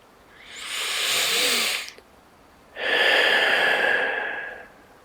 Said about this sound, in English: I invite you to take a high and holy breath